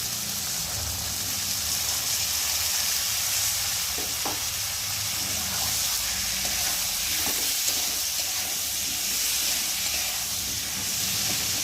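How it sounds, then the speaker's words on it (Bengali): Spice paste frying with green peas and fried prawns for a cabbage curry makes a continuous sizzling hiss, with occasional soft scrapes and taps as it is stirred. "মশলাটা ভালোভাবে কষিয়ে নেবো"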